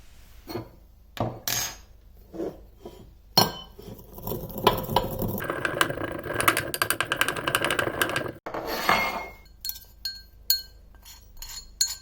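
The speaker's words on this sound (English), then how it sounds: "I start by crushing a teaspoon of cumin in a pestle and mortar." A teaspoon of cumin seeds being crushed with a pestle in a mortar: sharp knocks first, then a stretch of continuous grinding and clinking, close and fairly loud, followed by a few more scattered taps.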